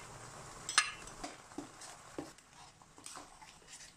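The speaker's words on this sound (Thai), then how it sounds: "ทีนี้ก็ผัดพริกแกงนี้ให้เข้ากับกะทิ" Green curry paste being stir-fried into bubbling coconut cream in a pan, with a sharp metallic clink of the utensil followed by soft scraping strokes and a faint sizzle, close and fairly quiet with no talking.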